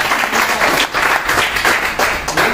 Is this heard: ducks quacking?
no